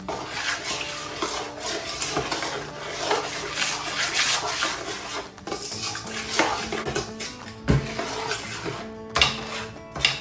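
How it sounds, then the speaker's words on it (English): A spoon mixes potato salad ingredients in a stainless steel bowl, making close, continuous scraping, clinking and rubbing against the metal with a few sharper knocks, and no talk. "I have all my ingredients in my nice stainless bowl, and I'm just gonna mix them up"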